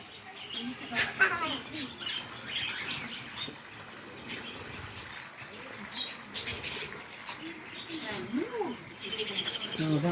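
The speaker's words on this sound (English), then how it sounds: "Birds. This is birds." Birds in an aviary chirp and tweet in scattered, fairly faint bursts, mixed with rustling and pattering and with people talking nearby.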